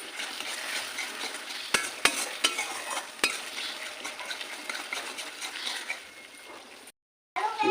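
Chopped tomatoes and spices fry in a pan for paneer masala, a dense continuous sizzle close up with sharp spoon scrapes and clinks against the pan as they are stirred, then a brief cut to silence near the end.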